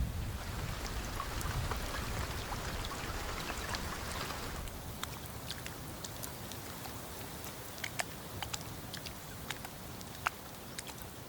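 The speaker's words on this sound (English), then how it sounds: "Ironically, it is Barafu that is first to get the lion's share of rain." Rain falls steadily on the African savanna, a broad hissing wash with a heavier rumbling patch early on, then lighter patter and scattered distinct drops striking nearby, no voices.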